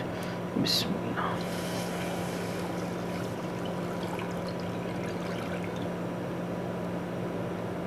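Custard, milk and sugar mixture poured into a hot pan, a steady wet hiss and sizzle running throughout under a person talking.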